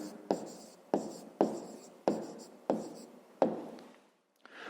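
Pen or chalk strokes writing the answer to a fifth-grade maths exercise, six firm evenly spaced scratches, close and fairly quiet, with no voice.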